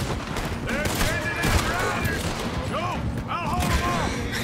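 Rapid bursts of gunfire from a Red Dead Redemption 2 shootout crackle loudly and almost continuously, with overlapping shots and game character voices calling out among them.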